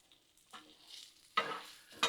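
Meatballs and little smokies searing on a hot Blackstone griddle, a soft sizzle with three brief louder scraping stirs, quiet and close with no talk.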